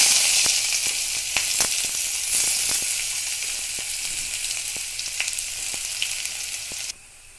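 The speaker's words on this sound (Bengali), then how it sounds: "এবার পেঁয়াজ রসুনটা ফোড়ন দিয়ে দিচ্ছি।" Onion and garlic fry in hot oil with five-spice seasoning, giving a loud, close, continuous sizzle dotted with sharp spits and crackles. The sizzle drops abruptly near the end.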